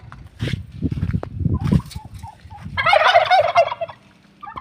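Large chickens calling close by on a farm: a short burst of rapid, bubbling gobbling after some lower clucks and shuffling.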